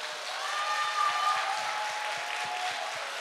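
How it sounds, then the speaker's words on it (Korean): Sustained audience applause at a church Christmas Eve festival, dense steady clapping heard alone with no voices. "우리 감사의 박수."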